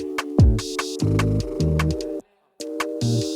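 Pigeons coo in Bolívar Square, Bogotá, in a series of low, droning, repeated calls that overlap at times, close and fairly loud, with one short silent gap between calls.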